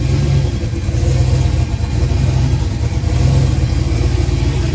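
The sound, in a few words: methanol-fueled turbo LS car engine starting and revving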